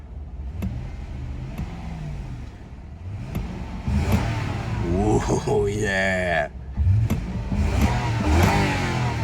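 A Ford Ranger engine idles, then revs up several times in rising, roaring bursts, with a voice speaking briefly over it.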